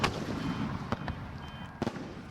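Aerial firework shells launched from ground mortars and bursting high overhead, with a couple of sharp distant booms and crackles standing out over a steady rumbling background.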